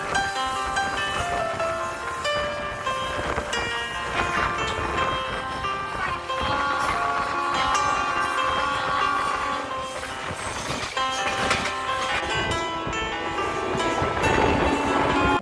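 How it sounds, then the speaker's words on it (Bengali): A large train passing through the Mahananda forest in the Dooars, a steady rolling rumble of wheels and carriages holding throughout, with no voices over it. "বন্ধুরা ট্রেনটি অতিক্রম করছে, দেখুন একটি বিশাল রেল কার"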